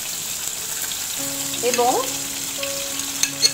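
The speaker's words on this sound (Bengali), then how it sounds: "গোটা গোলমরিচ দিয়ে দিচ্ছি" Whole black peppercorns hit hot oil already holding curry leaves, tempering spices for a fish curry, and a steady close sizzle continues throughout while a voice speaks a single word.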